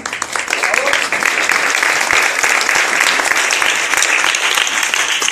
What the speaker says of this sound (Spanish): un aplauso para nuestra invitada